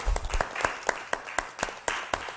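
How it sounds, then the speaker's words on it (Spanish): At a documentary presentation about prison life, a small audience applauds the speaker, with sparse, separate claps spaced irregularly and fairly faint over a couple of seconds. "Vamos a darle un aplauso a Alejandro García Cervantes"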